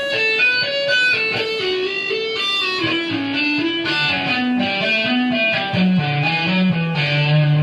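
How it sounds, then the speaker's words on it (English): Legato lick on an overdriven electric guitar, a smooth, unbroken run of fast hammered and pulled notes that climbs and falls in pitch, loud and steady with no pauses. "So that whole lick all together, played all the way through, looks and sounds kind of like this."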